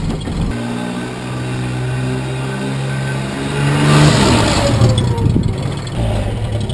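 A Daihatsu Midget K-truck's small 660cc three-cylinder engine revs up close by, its pitch climbing steadily then surging louder as it pulls away, with no talk.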